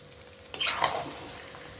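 Chicken chaap with Kashmiri chili powder is stirred in a pan: after a quiet start, a short burst of scraping and sizzling rises sharply, then fades over about a second.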